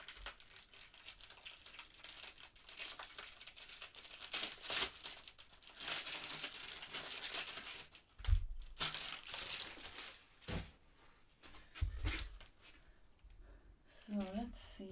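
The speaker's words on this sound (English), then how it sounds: "apologies for all the rustling." Plastic packaging of leather planner stickers rustles and crinkles close up in repeated bursts, with a person talking intermittently over the crackling.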